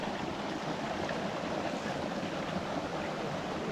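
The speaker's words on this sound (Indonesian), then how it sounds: "lihat sungai ini" A clear mountain river on the Pinaga trail up Mount Talamau flows in a steady, close broadband rush of water with no speech over it.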